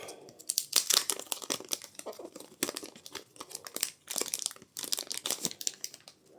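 Wrapping from a small packet of game cards crinkles and tears up close, in quick bursts of crumpling with short pauses, rather quiet and with no talk.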